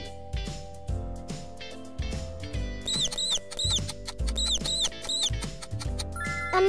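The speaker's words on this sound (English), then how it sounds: "A mouse." A mouse squeaks in a quick series of high, thin chirps, repeated in small clusters over light background music with a steady ticking beat; no one speaks.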